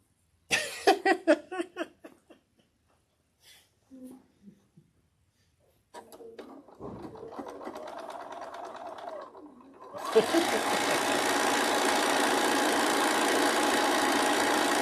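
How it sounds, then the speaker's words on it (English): After some brief clatter and a short quiet stretch, a sewing machine runs steadily while joining two quilt rows, its fast rhythmic motor hum continuing loud to the end. "we're going to sew these two rows together"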